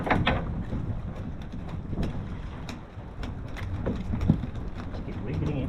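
Wind buffeting a microphone on the water while mackerel fishing off Phillip Island, a steady broadband rush with gusts that swell and ease, and a few quick knocks over it.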